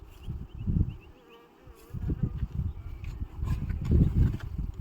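Honey bees buzz steadily around a hive during inspection as frames of foundation are added, a dense low hum that swells and fades with occasional close passes.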